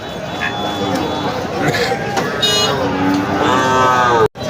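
Cattle, including heifer calves, moo at a livestock bazaar in Lohay, Gazipur. Several drawn-out moos rise over constant crowd chatter as people bargain nearby.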